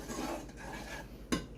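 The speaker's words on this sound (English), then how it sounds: "So we're going to stir this up a bit." A utensil scrapes and swirls quietly in a pot of pineapple habanero hot sauce brought just to a boil, with a couple of sharp clinks against the side near the end.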